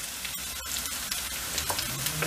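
Sautéed peppers tipped into chicken frying in a pan for tavuk kavurma, giving a steady hiss of sizzling oil with scattered scraping and stirring clatters, close and continuous, no voices.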